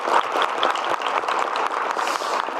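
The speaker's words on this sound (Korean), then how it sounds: "네, 우리 지사님 박수 한번 부탁드립니다." A political audience in South Gyeongnam gives the provincial governor a round of applause: steady, dense clapping from a large crowd that fills the whole moment, with no voice over it.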